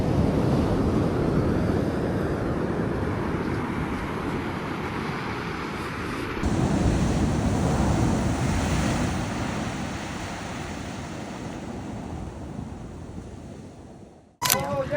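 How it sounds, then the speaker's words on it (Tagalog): Steady rushing surf from strong waves on a rocky beach at Kamay na Bato fills the whole stretch, with wind buffeting the microphone, ending in a sudden sharp clatter. "Medyo malakas yung alon."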